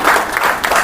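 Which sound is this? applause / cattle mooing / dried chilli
applause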